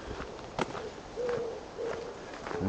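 Owls hoot near a canal swing bridge at Foxton, a few soft, spaced calls in the distance over a quiet outdoor background.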